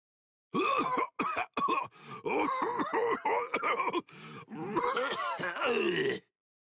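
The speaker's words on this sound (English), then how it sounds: "Hey, how long you gonna cough?" A video game character in Bleach Rebirth of Souls has repeated harsh, guttural coughing fits with groans between them, loud and close, continuing in bursts for several seconds.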